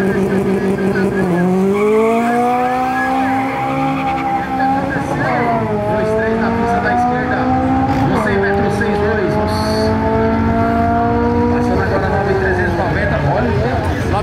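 A manual Chevrolet Caravan Turbo revs hard in a drag race, climbing through the gears, each surge rising in pitch before dropping and climbing again, loud and close, with people talking over it.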